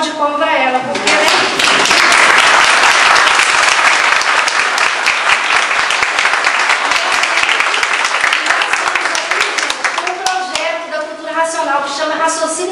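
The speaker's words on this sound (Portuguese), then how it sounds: "eu junto com vocês, dar uma salva de palmas para ela" An audience at a lecture in a Christian spiritist hall gives a long, full round of applause for an elderly woman. Loud, dense clapping runs for over ten seconds, and a voice speaks at the start and end.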